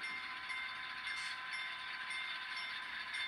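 A model railroad switcher locomotive backs up on a layout's industrial area, giving a steady close mechanical whir and hum that runs without pause, with no voices.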